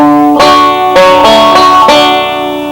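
Bright plucked banjo notes on open strings, a few quick picked attacks ringing out clearly and loudly, with no voices.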